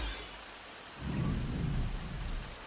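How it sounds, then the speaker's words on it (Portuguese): Thunder rumbles in a video game, a deep, swelling roll under steady rain-like hiss, rising midway and fading slowly. "ainda tá caindo trovão ainda"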